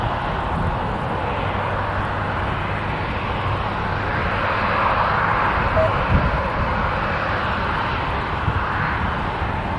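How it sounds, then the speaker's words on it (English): A Southwest Boeing 737 Max 8 jet airliner in Canyon Blue retro livery roars past at Columbus airport, a broad sustained engine rush that swells slightly midway and stays loud and steady throughout. "it is a Canyon Blue Retro Max 8, named in honor of Colleen Barrett"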